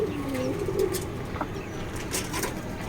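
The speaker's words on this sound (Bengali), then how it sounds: "তো বিকেলবেলা কবুতরগুলোকে খাবার দিলাম।" Pigeons on a rooftop coo softly while being fed in the afternoon, their low, repeated murmuring calls steady and close over a faint outdoor background.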